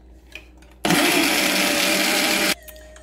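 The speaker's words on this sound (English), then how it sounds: "I'm gonna lock it and then I'm gonna blend right now." A blender whirs loudly and steadily for about two seconds, blending an almond milk protein shake with chia and flaxseed, starting and stopping abruptly with quiet room sound before and after.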